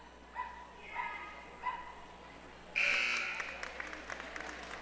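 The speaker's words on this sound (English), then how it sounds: "Every time a Indian goes to the line, he starts barking." A dog loose in a high school gym during a boys basketball game barks about three times in a spaced rhythm, fairly faint amid the hall's ambience, then a loud buzzer blares and the crowd applauds and chatters.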